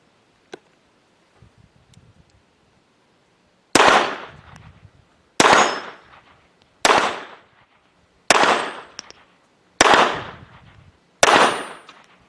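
A Jimenez JA-22 pistol fires CCI Mini Mag ammunition: six sharp, loud shots at a regular interval of about a second and a half, each followed by a short decaying echo, after a few faint clicks.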